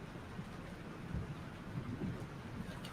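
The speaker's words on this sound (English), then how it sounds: "This storm is real." Thunderstorm with heavy rain in the video game Life is Strange: a steady wash of rainfall with low rolling thunder rumbling underneath throughout, dense and continuous with no voices.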